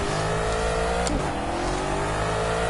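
A race car engine in the Project Cars racing game revs hard during a time trial lap, a continuous loud whine that dips briefly around a gear change before climbing again.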